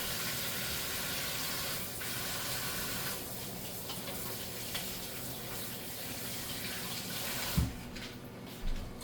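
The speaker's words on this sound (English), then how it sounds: "Let me wash my hands." Hands being washed under a running kitchen tap, a steady broadband rush of water that is fairly close and fairly loud, ending with a couple of short knocks near the end.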